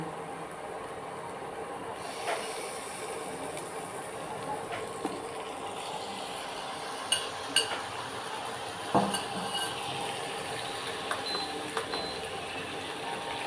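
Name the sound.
pre-cooked chicken added to a pan of fried onions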